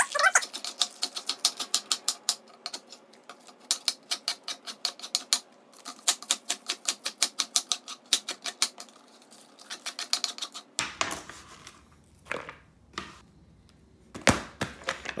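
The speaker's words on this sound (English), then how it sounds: "I'm going to just cut it with my big knife" A big kitchen knife chopping red cabbage into thin shreds on a cutting board, a fast run of close, crisp rhythmic knocks broken by short pauses, slowing to a few scattered cuts near the end.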